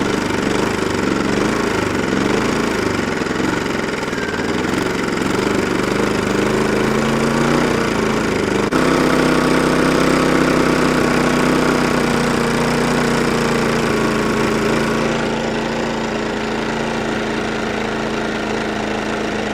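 An engine idles steadily and loudly up close for the whole stretch, its hum shifting pitch slightly partway through as the idle is readjusted, with no talking.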